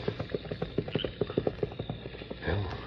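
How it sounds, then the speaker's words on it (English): Horse hooves clip-clop in a quick, steady rhythm along a trail, galloping away and slowly fading, with no voices over them. "whoever it was is getting away on horseback"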